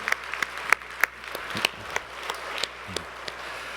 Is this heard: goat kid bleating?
no